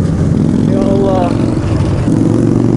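A Harley-Davidson motorcycle engine rumbles loudly and steadily up close, a deep continuous low throb with slight revving swells, while a voice talks over it.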